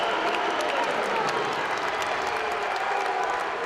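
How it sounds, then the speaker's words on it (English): College wrestling crowd at a Lehigh versus Rutgers match, a dense, steady wash of cheering and applause that fills the whole moment, loud and continuous. "This crowd is pumped up."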